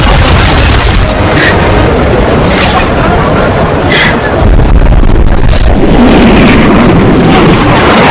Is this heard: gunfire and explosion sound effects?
yes